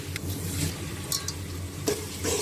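Spice paste of garlic, turmeric, red chili powder and salt is stirred into fried onions in a pan for Hyderabadi keema, giving soft scraping strokes over a gentle, steady sizzle.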